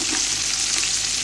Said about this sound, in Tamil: வெங்காயத்தை போடுங்க.